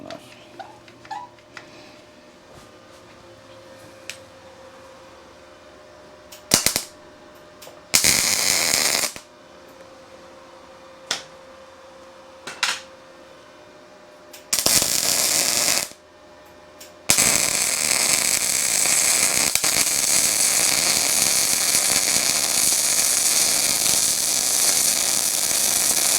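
A malfunctioning gas regulator on a welder, heard as bursts of harsh hiss and crackle that switch on and off several times, then settle into a loud steady hissing roar, with faint talk early on.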